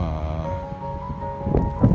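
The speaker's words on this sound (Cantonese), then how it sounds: "但係都幾大風" Steady gusting wind roars across the microphone, with low rumbling buffets and a faint tonal hum underneath.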